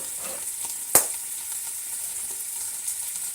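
Carrots and chayote stir fried in a pan, a steady close sizzle with one sharp clack of a utensil against the pan and faint stirring.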